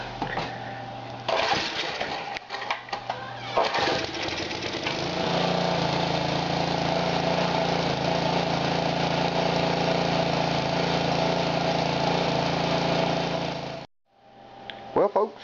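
A pressure washer's small engine is pulled over a few times at the start, then catches around the five-second mark and runs at a loud, steady roar before it is cut off near the end.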